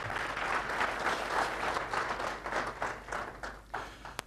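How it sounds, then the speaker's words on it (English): An audience applauds Malcolm at a talk, with a steady patter of many hands clapping that gradually thins and becomes more scattered, ending with a few isolated claps. "I think that deserves a round of applause"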